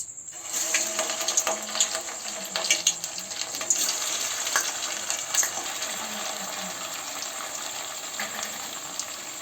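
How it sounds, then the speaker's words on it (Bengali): Potato and semolina snacks fry in hot oil in a wok, a continuous bubbling sizzle with irregular crackles and small clinks, moderately loud and without speech. "আগে আমি কড়াইয়ে তেল দিয়ে গরম হতে দিয়েছি, এবার এগুলো আমি ভেজে নেব।"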